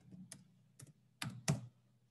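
Four soft, separate taps on a laptop keyboard, irregularly spaced over a quiet background, close by.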